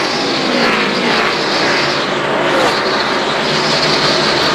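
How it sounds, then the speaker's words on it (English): NASCAR stock cars roar past at the 2002 Checker Auto Parts 500 race, a loud, dense engine wail that swells and fades slightly as the pack sweeps through turn 1, with no voices. "Dale Earnhardt Jr., the Bud car on the inside of Ryan Newman for the lead in turn 1."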